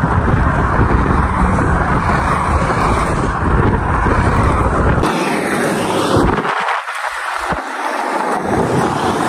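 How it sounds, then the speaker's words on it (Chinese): Strong, gusty wind on a snowy road in Heilongjiang, roaring loudly and continuously against the microphone, then thinning and dropping out in short lulls near the end. "风刮的实在是太大"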